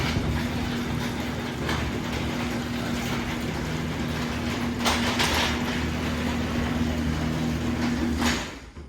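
An overhead garage door with a worn Touch n go 45A opener and a broken carriage rolls down, giving a continuous rumbling hum with rattling clatters near the middle and end before it stops abruptly.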